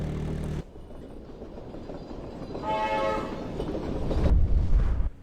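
A train rumbles past in a video game. A deep, heavy roll carries through, a horn-like tonal wail rises around the middle, and the rumble swells to a loud, close burst near the end.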